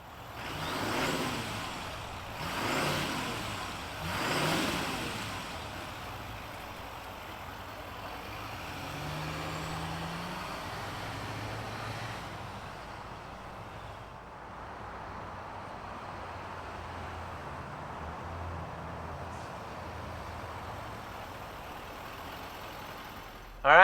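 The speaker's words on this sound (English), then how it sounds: "let's fire up that Duramax and hear if it makes those diesel noises" A 2024 Chevrolet Silverado 2500HD ZR2 Duramax diesel truck starts with a few rough bursts, then settles into a steady, low, fairly quiet idle rumble that continues alone.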